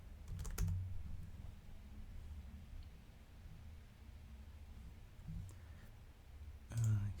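Quiet typing on a computer keyboard, a few scattered clicks and short bursts of keystrokes, faint and close with steady low background hum.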